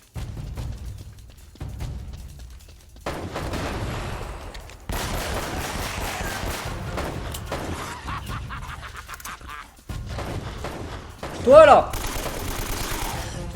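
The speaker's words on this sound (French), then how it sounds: "Faut courir et tirer à l'aveugle." Bursts of gunfire ring out in Uncharted: Drake's Fortune as shots are fired blind while running through a bunker, with rapid volleys and a sharp shattering hit, and someone talking over the action.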